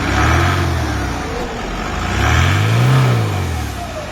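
An Isuzu MU7 with a 3000cc four-cylinder turbo diesel revs twice, heard close: a deep engine rumble swells, settles, then rises again into a louder, longer rev before easing off, with no talking over it.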